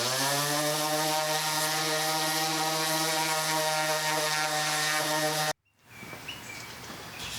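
A power sander works on pieces of an antique Singer treadle sewing machine cabinet, a loud steady whirring drone that cuts off abruptly, followed by quieter rustling handling noise.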